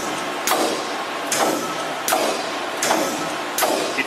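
A stamping press cycling, with a heavy rhythmic stroke landing roughly every three-quarters of a second over a constant loud mechanical hum, five strokes in steady succession.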